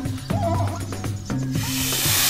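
A boa constrictor's steady, breathy hiss rises in the final second, following a stretch of tonal music.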